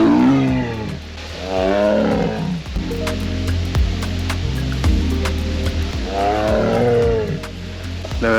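A tiger at Hacienda Nápoles in Colombia roars in long, deep, rumbling bursts, loud and fairly close, with a brief pause between calls and no talking.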